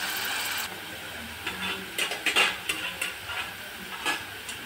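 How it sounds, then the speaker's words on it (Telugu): Onions sizzling in hot oil for a fish curry, a steady close frying hiss with bursts of stirring scrapes and clatter from a spoon against the pan. "ఆయిల్లో ఉల్లిగడ్డ మాత్రం వేసేసినాం. ఇది కొంచెం మంచిగా ఉడకాలి."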